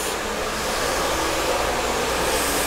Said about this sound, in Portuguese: Olha como é que tá o bico do secador, ó, não chega nem a encostar no cabelo, só continua dando calor para a escova